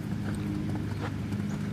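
Horse hooves clip-clopping steadily during a riding lesson in an arena, a continuous rhythmic footfall under a low background rumble.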